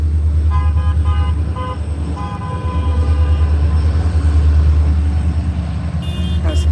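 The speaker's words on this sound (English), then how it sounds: "There's a train coming behind. People honking to the protesters or demonstrators in support." A train rumbles past with a heavy low drone while several car horns toot in short bursts of varying length near a street protest, loud and continuous throughout.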